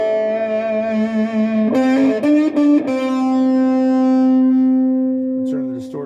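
Sustained, heavily distorted electric guitar notes through a 1960s Heathkit fuzz pedal into an amp, with a buzzy, saturated tone, ringing long with a few choppy changes in between.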